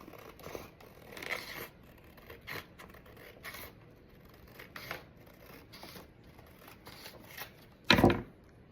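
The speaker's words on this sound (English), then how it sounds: "I'm gonna go ahead and I'm gonna cut it because they print to a sheet" Scissors trim a printed Hershey bar wrapper sheet in a series of faint, quick paper snips spread across a quiet room, ending with one sharper, louder cut.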